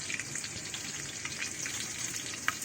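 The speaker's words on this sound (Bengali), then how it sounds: "এবার এই যে পেঁয়াজ ভাজা হয়ে গেছে," Onions with green chilies and spices frying in a pan, a steady close sizzle with faint crackles and a small clink near the end, no voices.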